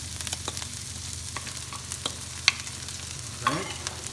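Garlic sautéing alongside braised pork hock for humba, a steady sizzle with scraping stirs and a few clinks of the utensil against the pan, close and moderately loud.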